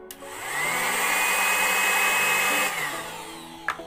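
A two-way 240V electric air pump for inflatables whirs up to a steady, loud motor whine, holds for about two seconds, then winds down. A small knock follows, with no talk.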